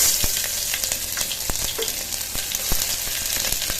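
Onions frying in hot oil with cloves, cinnamon and star anise for tomato rice, a steady close sizzle with sharp crackling pops scattered throughout.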